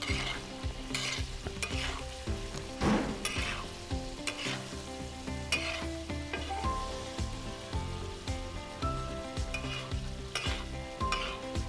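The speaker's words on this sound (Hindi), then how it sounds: "कलेजी डालने के बाद अभी हम मज़ीद 5 से 6 मिनट तक कलेजी को इसी तरह फ्राई करते जाएंगे।" Chicken liver masala fries on a hot tawa with continuous sizzling and repeated stirring scrapes of a spatula, loud and close throughout, over a steady tonal background.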